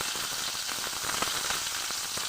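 Chopped ginger and garlic frying in hot oil in a pan, a steady close hiss and crackle with faint pops, continuous and without talk.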